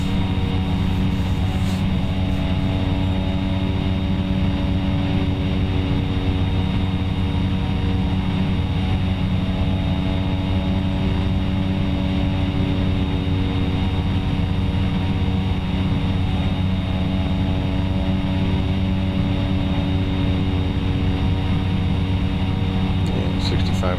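Steady, loud propeller aircraft engine drone in the X-Plane 11 flight simulator during a climb, a constant hum with strong low harmonics throughout, under faint talk.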